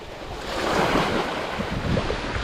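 Ocean waves wash onto a quiet sea shore at a fishing spot, a steady broadband rush of surf with some wind buffeting the microphone, continuous and fairly loud throughout, with no voices.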